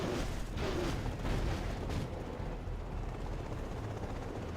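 A Chinook helicopter in a video game produces a dense low rotor rumble with a few sharper thumps early on. It holds steady and moderately loud, with no talk over it.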